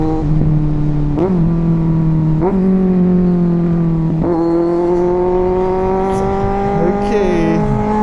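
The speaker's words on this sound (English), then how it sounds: "And can you hear the gurgles and the pops on the exhaust?" A 2023 Kawasaki Z900 motorcycle revs up loud and close through several gear changes, its exhaust gurgling and popping as the engine note climbs and drops.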